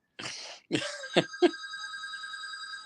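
Landline telephone ringing with a clear, bright electronic ring tone that rises out of silence and sustains. A couple of short throat-clearing sounds come right before it.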